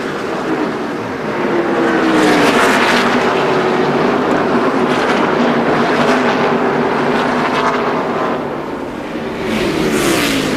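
Several NASCAR race cars roar around the oval track in a steady, loud, droning pack, the engine pitch rising and falling as the cars pass during the 2002 Subway 400.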